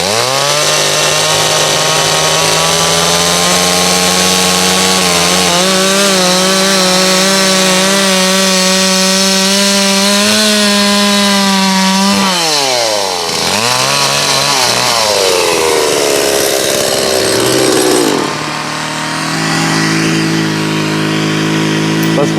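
Chainsaw cutting a timber beam for a log house, a loud close engine whine that holds steady, then dips and revs as the blade bites through the wood and the pitch rises again.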